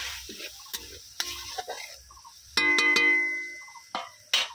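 A spoon stirs and scrapes spice paste (masala) frying in a pan, giving soft sizzling with scattered clinks and taps against the metal, fairly quiet and close.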